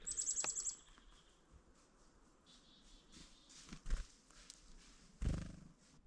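Chickadees calling near a tiny cabin under construction: a brief burst of high, rapid chirps at the start, then sparse faint calls and small knocks over quiet outdoor background.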